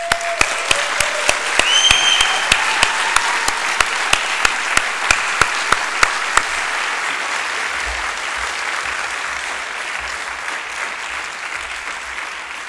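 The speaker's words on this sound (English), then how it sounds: "I just want to do a collective big round of applause for Klimis." Sustained round of applause from a lecture audience at a design talk, a thick steady crowd clapping with sharp individual claps popping out near the front during the first half before it settles into an even wash.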